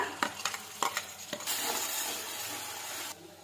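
Onion with garlic and green chili paste sizzles in hot oil with cumin in a home pan, opening with several sharp scraping stirs of a spoon, then a steady loud frying hiss that cuts off abruptly near the end.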